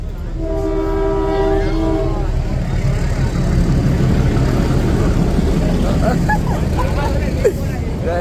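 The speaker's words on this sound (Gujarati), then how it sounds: "ચાલો ટ્રેન આવી ગઈ હો ભાઈ ટ્રેન જો આમથી આવે છે" A train approaches with a long, loud horn blast at the start, followed by the steady rumble and clatter of rail cars rolling close by.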